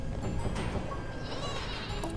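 Sheep bleating in the video game Flockers, several wavering cartoonish bleats overlapping against busy game noise, close and moderately loud over a couple of seconds.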